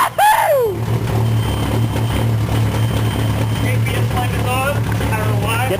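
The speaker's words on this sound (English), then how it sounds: "A dual TDI cold start." A TDI diesel engine cold-starting at minus 40 cranks briefly and then settles into a loud, steady rumbling idle, with voices talking over it.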